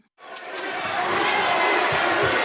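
Wrestling crowd at an AEW show roaring and chanting in a dense, sustained wash of voices that swells up after a brief silence and holds loud, with a few thuds underneath.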